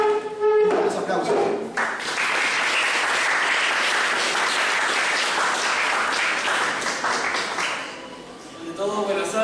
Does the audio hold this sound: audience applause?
yes